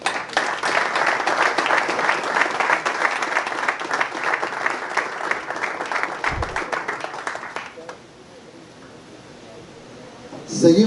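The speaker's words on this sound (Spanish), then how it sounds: "Les pido un fuerte aplauso para recibir a Cris Ríos." An audience applauding to welcome a player at a televised event, dense sustained clapping from a crowd for several seconds that fades out, leaving a quiet room.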